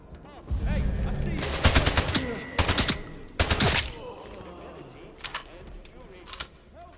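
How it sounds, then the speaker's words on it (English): SMG fire in Atomfall comes in several sharp rapid bursts, loud and close, followed by a couple of isolated later shots against quiet game ambience. "I didn't mean to use my SMG there"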